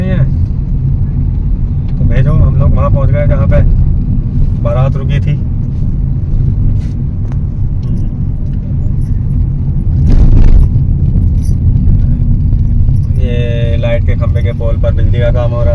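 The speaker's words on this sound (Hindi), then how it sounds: "ये नगर पंचायत महमूदपुर माफी की गाड़ी है।" A municipal council vehicle of Nagar Panchayat Mahmudpur Mafi drives past in a village, a steady loud engine rumble and road noise with a swell near the middle, mixed with background voices and some clatter.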